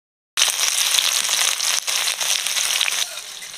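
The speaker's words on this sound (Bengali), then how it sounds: "পেঁয়াজটা হালকা ভেজে নিয়েছি" Chopped onion fries in hot mustard oil in a kadai, starting abruptly with a loud, close, continuous crackling sizzle that runs throughout, briefly dipping once and easling slightly near the end, with no talk.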